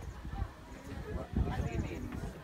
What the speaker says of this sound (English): Look at the horse, it's got pink hair.